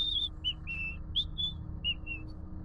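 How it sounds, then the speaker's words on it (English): A shrill, high whistle heard over a phone call at a train station, coming in several short, piercing bursts and slides above a low background hum. "And again, it's that same shrill whistle."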